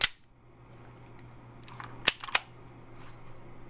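The slide of a WE M9 airsoft gas pistol is released and snaps forward with a sharp metallic clack, followed by a second smaller click, close by and otherwise quiet.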